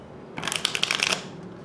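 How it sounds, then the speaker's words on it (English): Deck of playing cards riffle-shuffled close up, a quick burst of rapid fluttering card snaps lasting under a second, alone and crisp. "Control your card to the bottom, pull off your riffle shuffle,"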